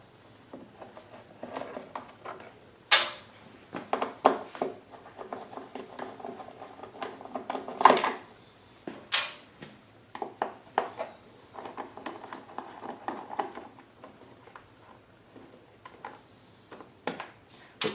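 Small Phillips head screws come out of the front cover of a Craftsman 3300i generator, giving scattered light metallic ticks, scrapes and clinks of a screwdriver and parts, close and quiet with no talking.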